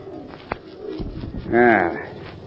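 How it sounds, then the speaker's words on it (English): A screech owl call in an old-time radio drama, a short wavering tonal cry that rises out of the background partway through, preceded by a sharp knock and soft rustling, with a voice nearby. "that was just an old screech owl. There it is again."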